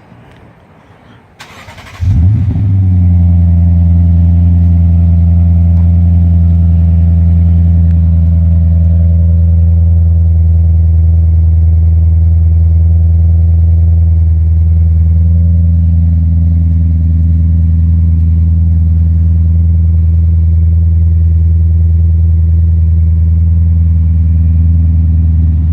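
A Lexus RC F with its 5-liter engine and catback exhaust cold-starts with a sudden loud burst, then settles into a steady, deep, loud fast idle that holds throughout with slight rises in revs.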